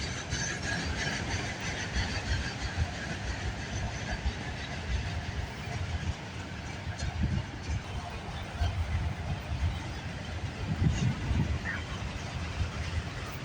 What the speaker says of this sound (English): This train is crawling by